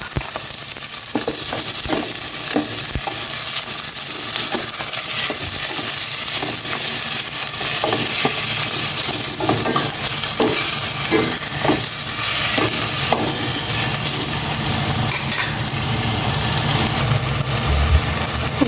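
Cubes of pork fry and sizzle in a pan with chili, pepper and salt, a steady close hiss running throughout, broken by scattered clinks and scrapes of a utensil stirring the meat.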